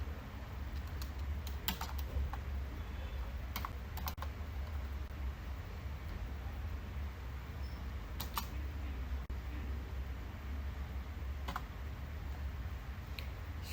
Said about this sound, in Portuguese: Deixa eu digitar aqui.